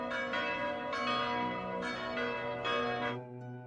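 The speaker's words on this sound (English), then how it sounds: "The cathedral bells sounded precisely at 6 every morning." Cathedral bells in Dubrovnik, Croatia, ringing in a slow, even series of sustained strikes, each tone swelling and overlapping the last, heard at moderate distance with no voices.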